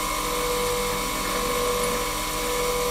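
A milling cutter's flute being ground on a DIY sharpening setup, a steady high-pitched whine with grinding hiss held at an even level throughout, close and continuous with no talk.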